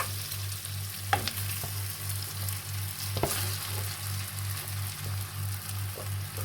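Cooked semolina is stirred into a frying pan of golden fried seasoning for semolina pulihora, a close continuous sizzle with occasional spatula clacks and a low steady hum underneath.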